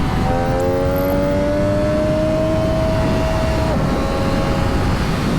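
A 2022 MV Agusta F3 RR motorcycle pulls in second gear from around 10,000 rpm at motorway speed, its engine note rising steadily and loudly over heavy wind roar before easing off.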